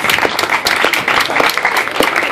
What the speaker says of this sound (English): give all of yourselves a big round of applause for being a great audience